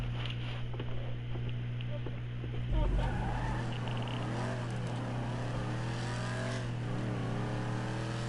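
Engine of a car in GTA V revving and shifting pitch during a race lap, steady and fairly loud, with rising and falling tones over a constant drone and a brief thump near the middle.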